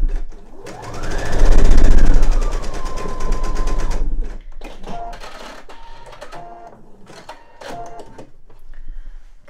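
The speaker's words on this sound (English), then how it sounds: "So we're going to stitch that." A sewing machine runs a half-inch seam along the top of a handmade eye pillow, whirring up to speed in a loud continuous burst, then slowing into short stop-and-start stitching runs with mechanical clicks between them.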